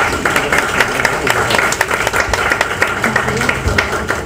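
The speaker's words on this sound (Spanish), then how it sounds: "recibamos con un fuerte aplauso a Doña Magia." An audience at a tribute concert applauds. Dense, loud clapping from many hands runs steadily throughout with a lively, uneven rhythm.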